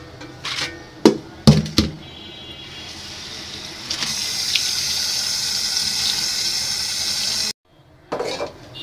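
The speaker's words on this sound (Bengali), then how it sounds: "লাল শাকগুলি বাছা হয়ে গেছে, এখন সুন্দর করে ধুয়ে নিব" Tap water runs steadily over red amaranth greens being washed in a sink, preceded by a few sharp clatters of handling and stopping abruptly before a brief splash resumes.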